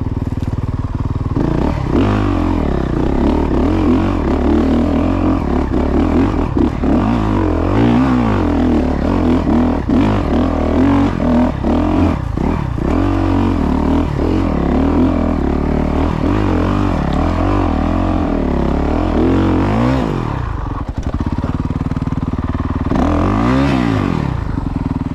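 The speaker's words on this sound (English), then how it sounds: "This is dirt bikes." Dirt bike engines roar close and loud over a long stretch, revving up and dropping back again and again as the bikes ride over rough ground, with a brief dip before a final rising rev.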